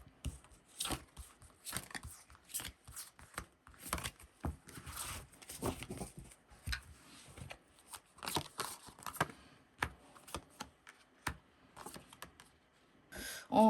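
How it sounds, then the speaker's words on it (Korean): Tarot cards being drawn and shuffled at a Korean reading on reuniting with an ex, with close, crisp papery flicks, slides and taps in irregular bursts and no talk. "한번 카드를 뽑아보도록 할게요"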